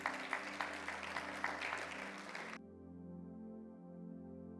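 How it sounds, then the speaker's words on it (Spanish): A church congregation stands and applauds, a dense burst of clapping that cuts off abruptly after a couple of seconds, followed by a low sustained organ-like tone. "Póngase de pie y dando un fuerte aplauso al Señor,"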